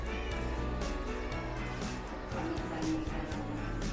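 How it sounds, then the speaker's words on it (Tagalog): Several cats meow over a steady low background, with plaintive cries repeating through the clip. "Mga pusa."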